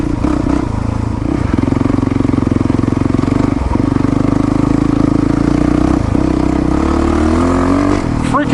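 A Yamaha WR450F motorcycle rides through snow, its engine a loud, close, continuous drone with slight dips and rises and a faint clatter over the run.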